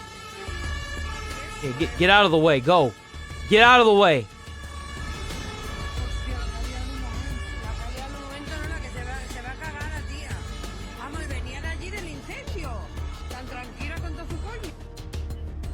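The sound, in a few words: fire truck sirens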